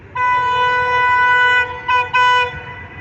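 The locomotive of the Allama Iqbal Express sounds a loud, close whistle: one long steady blast followed by two short bursts.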